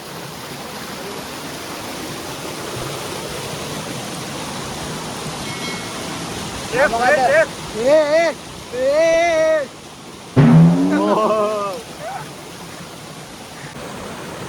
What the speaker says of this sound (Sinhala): මේකේ වතුර ගලනවා සද්දේ මේකිට පොඩ්ඩක් එනවා